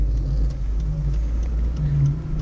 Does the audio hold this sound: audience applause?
no